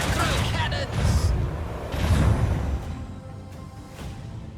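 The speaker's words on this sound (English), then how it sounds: "Engage the macro cannons." Macro cannons firing in the Warhammer 40k: Rogue Trader game, a rapid series of booming, crackling volleys in two waves, dense and loud, trailing off into rumble at the end.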